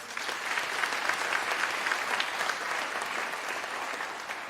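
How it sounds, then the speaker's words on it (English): Audience applause at a Unisa autumn graduation ceremony, a continuous even round of clapping from a large crowd, moderately distant and steady throughout. "Can I request a round of applause?"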